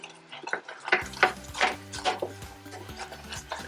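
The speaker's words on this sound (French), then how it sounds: "On remue sans arrêt." Spoon stirring coconut as it caramelises in a pot, a series of rubbing, scraping strokes in a steady rhythm over a low background hum, close and moderately quiet.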